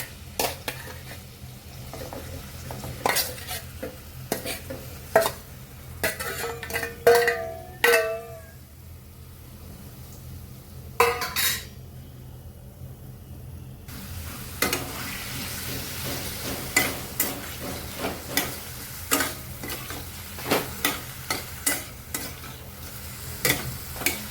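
Marinated prawns fry in oil in a pan, a low crackling sizzle broken by frequent sharp spatula scrapes and clanks against the metal, close and without speech.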